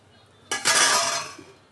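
A spoon stirs lentils in a pot of boiling water with a brief, bright scraping and clinking burst of about a second, close by, that then dies away.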